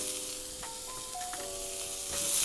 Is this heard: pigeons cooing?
no